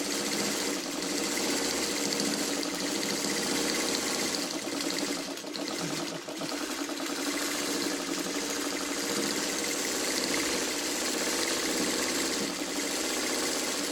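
Sewing machine stitching a quilt, a close, continuous rapid mechanical chatter that runs steadily throughout with only a brief dip near the middle and no voices.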